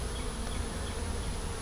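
Honeybees buzzing at an open hive during a summer colony check, a dense, continuous, loud drone of many bees close by, steady throughout with no talk.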